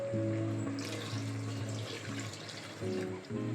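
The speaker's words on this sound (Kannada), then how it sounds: "ಇಲ್ಲಿ ನೀರು ಫಸ್ಟ್ ಹಾಕ್ತೀವಿ, ಅಕ್ಕಿ ಹಾಕ್ತಾಯಿಲ್ಲ" Water being poured into a cooking pot for chicken biryani makes a steady, close splashing stream that runs for most of the moment, with a short break near the end before it resumes.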